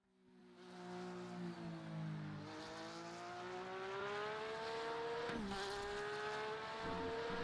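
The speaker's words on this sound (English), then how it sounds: "in the Porsche here, the Porsche GT3R, coming across the start-finish line, charging our way down in towards turn number 1" A Porsche GT3R race car in an esports racing game at the Hungaroring roars continuously and loudly, its engine pitch climbing through the revs with brief dips at gear changes, and no one speaks.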